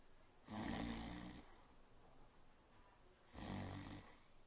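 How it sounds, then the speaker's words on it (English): Two slow, rasping snores a few seconds apart, quiet and close, with soft breathing in between. "she also snored"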